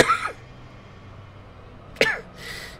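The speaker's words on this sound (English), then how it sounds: "Because that's what makes my throat itch, which causes me to cough." A person coughs twice, close and sharp, with a pause between the bursts over a quiet room background and a brief faint noise at the end.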